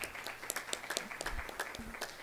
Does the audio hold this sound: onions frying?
no